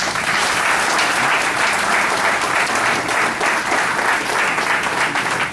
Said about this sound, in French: Nous pouvons acclamer